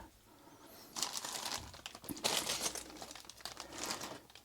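Small plastic packets holding Bernina sewing machine bobbins crinkle and rustle in close handling, with bursts of crisp crackling that come and go over a few seconds.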